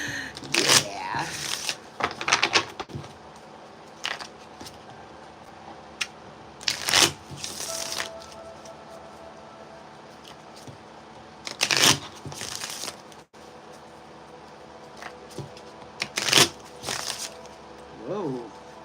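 Cards are shuffled in several quick riffling bursts, spaced a few seconds apart, with quieter handling noise and faint talk in between.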